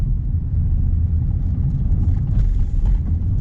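A taxi car drives through Odessa, with a steady low engine and road rumble filling the cabin throughout, and a few faint rattles near the end.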